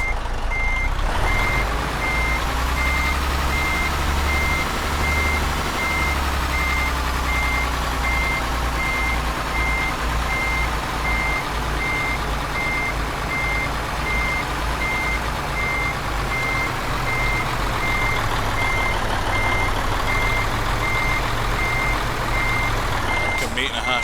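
A truck backing up to park beside a trailer in Euro Truck Simulator 2, a steady run of evenly spaced reversing beeps over a low engine drone lasting the whole stretch.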